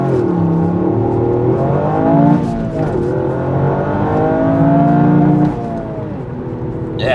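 Toyota GR Yaris in sport mode with traction control off, accelerating hard from 0 to 60 mph: a loud, close engine roar climbing through repeated gear changes, with rising and dipping tones across the run.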